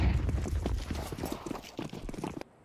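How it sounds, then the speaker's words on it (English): Rapid footsteps during a competitive Counter-Strike match, a dense run of quick clicky steps that continues steadily and loud, then cuts off near the end. "hearing all these footsteps"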